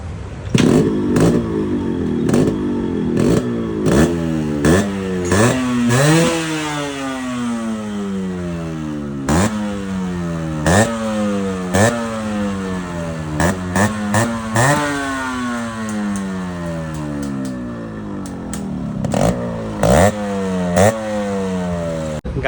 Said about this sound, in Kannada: ಕೊನೆಗೂ ಗಾಡಿ ರೆಡಿ ಆಗಿ ಸೌಂಡ್ ಬತ್ತಪ್ಪ ಅನ್ಕೊಂಡೆ